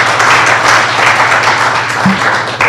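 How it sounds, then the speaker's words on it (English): Audience applause at the close of a real estate investing meetup, a dense steady patter of many hands clapping throughout, fairly loud and close, with no talk over it. "let's get a round of applause for these guys."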